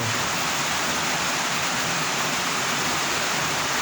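Steady, unbroken heavy rain pouring down on a cold day, a dense even hiss with no pauses and no voices throughout.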